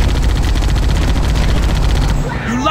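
Marines firing their guns during a Halo game battle, a dense, loud, continuous burst of rapid automatic fire that cuts off just before the end, with a voice briefly heard.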